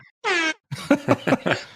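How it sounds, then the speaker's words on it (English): A short, loud air horn blast, followed by a few rapid buzzy honks in quick succession. "Why is an air horn?"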